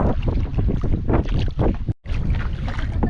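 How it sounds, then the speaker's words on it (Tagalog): Strong southwest monsoon wind buffets the microphone at sea, a constant loud roar with gusty surges and no talk. "Malakas po ang habagat."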